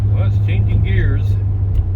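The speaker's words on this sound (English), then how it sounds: "Well, it's changing gears," A Chevy G20 conversion van shifts gears while driving, its steady low engine drone and hum running throughout with a rising and falling pitch change, while a person talks over it up close.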